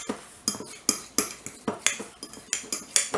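A metal fork mashes a softened ingredient in a bowl for chicken salad, making a steady run of sharp scraping clicks against the dish, close and alone with no voices.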